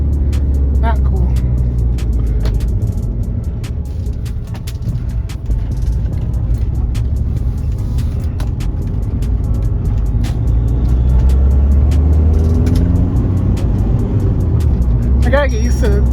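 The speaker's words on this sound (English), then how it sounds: "Finally get to drive this car." A cheap Volkswagen Beetle TDI drives along, a steady cabin drone of diesel engine and road rumble with occasional faint clicks and rattles, and a person talks over it.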